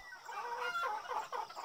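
A rooster and a hen, hatched from a calabash, crow and cluck faintly in a short burst of overlapping fowl calls, with no talk.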